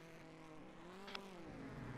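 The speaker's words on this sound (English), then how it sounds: "you can hear it, how he's trying to finagle the gearbox to get the car to turn" A rallycross race car engine at a NASA RallyCross round in Spain drones faintly and bogs down, its pitch sagging as the driver works the gearbox, heard at a distance.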